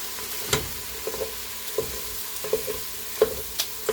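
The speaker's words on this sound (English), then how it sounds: "get the sausage broke up here so it can start browning, and then I'll blend it in with the ground beef." Sausage browns in a pan as a utensil breaks it apart, giving a quiet sizzle with irregular light scraping taps and clicks at close range.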